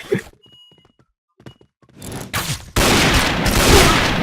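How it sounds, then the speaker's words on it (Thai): Gunfire in the game Point Blank: a few muffled shots and thuds, then a loud, sustained burst of rapid automatic fire filling the end. "เฮ้ยน่ะโอ้โหปืนเก็บเสียงโอ้โหดังปิดปิดปิดปิดเลย"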